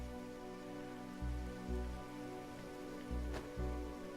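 Rain falls in a Minecraft modpack game world as a steady, quiet hiss, with low pulsing tones and a faint droning background underneath.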